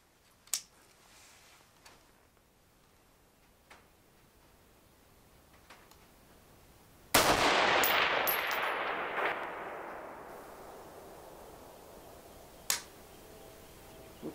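Rifle shots fired with a two-stage trigger at an outdoor range, one loud close report with a long rolling echo, surrounded by a few fainter distant pops and clicks.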